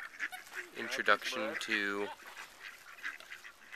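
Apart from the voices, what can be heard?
ducks quacking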